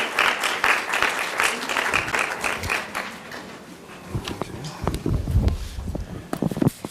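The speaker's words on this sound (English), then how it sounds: "Give us a round of applause, please." Audience applause at a Women's History Month gathering, a lively wave of clapping that fades into scattered individual claps, with a few voices and shuffling near the end.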